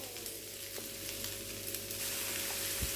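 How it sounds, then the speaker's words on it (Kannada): Onions and tomatoes frying in a pan for tomato chutney, a steady close sizzle and crackle with faint stirring and no voices. "ಒಂದು ಸ್ವಲ್ಪ ಹೊತ್ತು ಫ್ರೈ ಮಾಡ್ಕೊಳ್ಳಿ"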